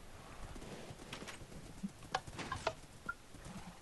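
Horse hooves clip-clop faintly in the Minecraft video game, a few soft, irregular steps over a quiet background with brief chirpy blips.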